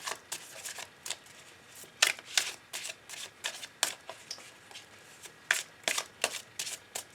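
A Silver Witchcraft Tarot deck is shuffled by hand in a quiet room, with repeated crisp riffling bursts and soft card flicks in an uneven rhythm and no talking.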